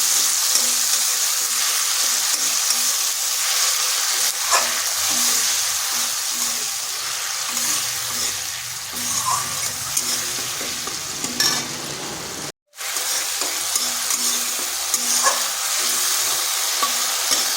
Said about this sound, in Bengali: এরপর দিয়ে দিচ্ছি একটা টমেটো পেস্ট এখানে আছে একটা টমেটো আদা আর দুটো কাঁচা লঙ্কা